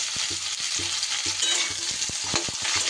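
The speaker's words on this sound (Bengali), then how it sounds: "মূলোগুলো একটু হালকা করে তেলের মধ্যে আমি নাড়াচাড়া করে নেব।" Radish pieces, added after black mustard seeds, are stirred through hot oil, with a bright continuous sizzle broken by rhythmic scraping and tapping of a utensil close by.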